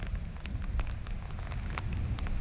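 Rain falling in the desert, a steady broadband hiss with scattered drop ticks and a low rumble of strong gusty wind, continuous and fairly loud throughout with no voices.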